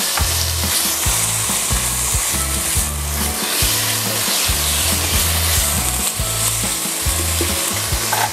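Chicken pieces fry in butter in a pan with a loud, steady sizzle throughout, while low, rhythmic thumps pulse underneath.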